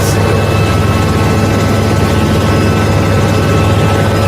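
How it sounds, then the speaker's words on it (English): A helicopter engine drones loudly and steadily without a break, a heavy low rumble with a constant rotor hum that stays close and unchanging throughout. "Why you got all this rocky motion and this engine noise, but the helicopter not actually moving?"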